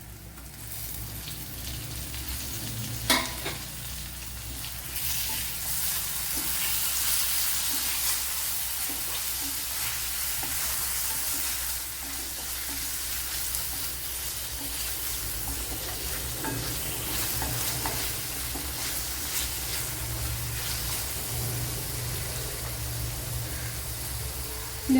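Tomato dropped into a pan of three-quarters-cooked onions and shallots fries with a continuous soft sizzle and occasional stirring clatter, one sharp knock early, with no talking.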